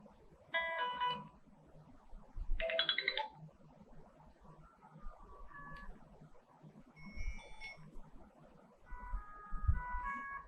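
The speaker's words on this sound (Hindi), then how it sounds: "कॉल की जो रिंगटोन है वो 5 रिंगटोन डाली गई हैं" Several electronic ringtones from a Magic E5 keypad phone play one after another, short beeping melodies with pauses between, fairly quiet with faint handling noise.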